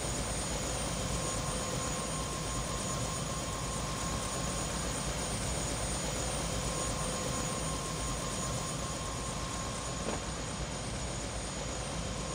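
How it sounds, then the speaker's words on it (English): Steady, loud helicopter engine drone from the video game Prey, a constant whirring rotor-and-turbine hum that stays unchanged throughout with no talking. "Yeah, I really love the look of this chopper."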